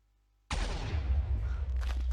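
Minecraft explosions in an alpha/beta version of the game, a sudden loud burst that cuts in from silence and rumbles on as a dense, sustained roar of blasts.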